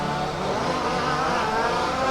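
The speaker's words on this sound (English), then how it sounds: "Silver car versus the pink car." Race cars battle for position in a championship rally main event at Warm Springs Raceway, a steady loud wash of engine roar and tire noise filling the track with no pauses.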